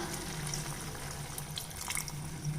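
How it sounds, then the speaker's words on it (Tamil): Water pours steadily into a pan of chicken masala gravy for a short stretch, a continuous close splashing and trickling with no talk. "இப்போ சிக்கன் வேகிறதுக்கு தேவையான அளவு தண்ணி விட்டுக்கலாம்"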